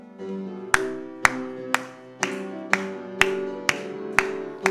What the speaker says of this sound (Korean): 박수 치면서 변찮는 주님의 사랑과 거룩한 보혈의 공로를 우리 다 찬양을 합시다.